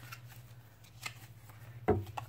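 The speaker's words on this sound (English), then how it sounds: "I'm just going to randomly shuffle these." Tarot cards are shuffled by hand in soft, papery flicks and riffles, close and fairly quiet, with a low steady hum underneath and one sharper slap of cards near the end.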